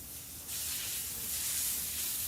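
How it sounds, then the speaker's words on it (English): A spray bottle hisses out a steady, continuous stream on a porch, aimed at a large spider, the close, airy spray starting abruptly and running unbroken to the end. "we'll just spray him off of the porch for now"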